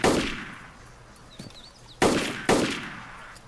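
Sharp gunshots in the survival game DayZ: a faint early report, then two loud, close cracks about half a second apart, each with a ringing tail, with no talk.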